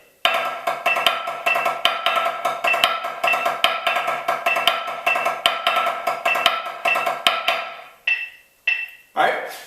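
Snare drumline playing a continuous triplet grid with diddles on the downbeats, ones section: rapid, evenly spaced strokes with accented pulses for about eight seconds, then two short separate hits ringing out near the end.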